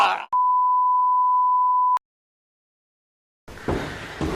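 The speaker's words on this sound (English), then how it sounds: "Okay, shut up, alarm." An alarm sounds one long, pure, steady beep lasting under two seconds, cutting off sharply into silence before a voice starts speaking close by.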